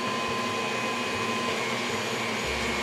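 An electric mixer drones at a steady, loud whine while blending dry ingredients into healthy low-carb brownie batter, holding one even tone throughout with no voices.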